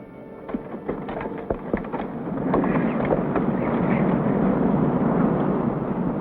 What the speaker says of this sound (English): The wind had begun to rise.